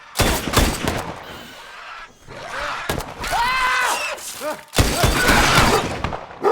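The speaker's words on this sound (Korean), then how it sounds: "가족이 위험해진 것을 느낀 글렌은 총을 쏴 괴생물체의 타겟을 자신 쪽으로 유도하기 시작합니다" Gunfire in a tense film scene with a monster, heavy bursts of shots and thuds mixed with loud cinematic effects and brief voices.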